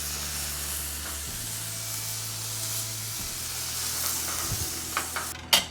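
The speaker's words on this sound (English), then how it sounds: "Let's give it a fry." Beef wellington being fried in a pan: a steady, close sizzle and hiss with occasional crackles and soft stirring scrapes toward the end, and no talk.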